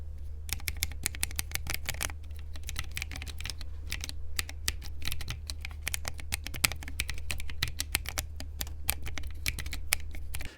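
Mechanical keyboard fitted with tactile Ghost switches of about 45 grams actuation force, typed on steadily for the whole stretch: dense, close clacking keystrokes with no talk, over a low steady hum.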